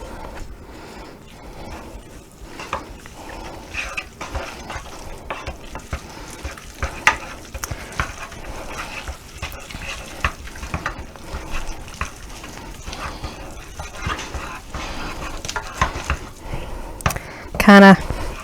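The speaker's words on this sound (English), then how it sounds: "Kind of being real vigorous stirring." A spoon is worked vigorously through sticky cream puff dough as eggs are beaten in, making repeated soft scraping and slapping strokes. A voice talks over the stirring.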